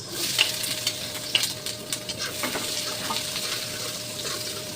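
Garlic and onion sizzle and crackle as they fry in a pan, with steady close sputtering and a few brief stirring clicks.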